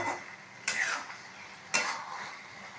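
Eggs frying in curry masala in a pan make two sharp scrape-and-clink strokes of a stirring spoon over a faint, soft sizzle, close and brief.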